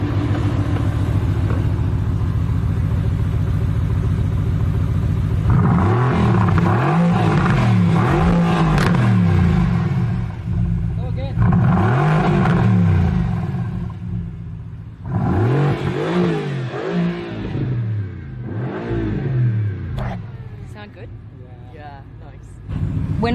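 A Mercedes-AMG engine with open exhaust rumbles at idle, then revs up loudly in several sharp bursts with pauses between, a deep throaty roar close by, with a few voices underneath.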